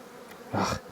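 A brief burst of honey bee buzzing rises close by over a quieter hum from an opened beehive, then fades again.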